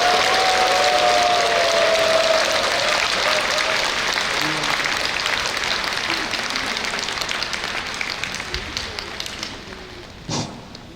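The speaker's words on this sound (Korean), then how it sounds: "양승국 스테파노 신부님을 뜨거운 박수로 모시겠습니다." A large audience at a Catholic diocesan Holy Spirit festival lecture applauds warmly to welcome a priest. The steady, dense clapping rolls on for a long stretch and gradually tapers near the end, with a voice briefly audible early on.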